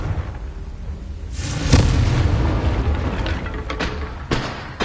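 Blasting curse Confringo in Hogwarts Legacy, a loud explosive boom with a sharp crack followed by a rolling rumble, then a couple of smaller impacts near the end.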